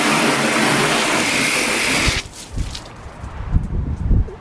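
Heavy water flooding over a flat car door panel during a coating test, a loud steady rush for about two seconds that cuts off abruptly, followed by softer dripping and splashing.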